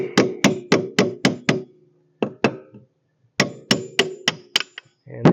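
Hammer tapping on the rear axle of a 2007 Polaris 500 Ranger 4x4 EFI UTV, sharp metallic blows in quick bursts of five or six, a brief pause, then another rapid series, close and loud.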